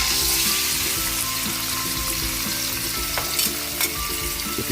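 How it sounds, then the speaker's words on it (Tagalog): Pork sizzles and fries in hot rendered fat in a pan for Bicol Express, a continuous crackling hiss with scattered pops and the occasional scrape of stirring. "Yun, naprito-prito na yung ating pork. Lumabas na yung mantika."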